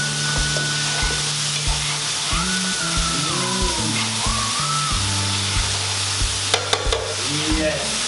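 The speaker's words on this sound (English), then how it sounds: "Put the olive oil. Right. And shallots. Cook in the shallots." Shallots fry in olive oil over a medium-low flame with a close, steady sizzle, broken by repeated stirring scrapes and clicks in the pan and a brief clatter near the end.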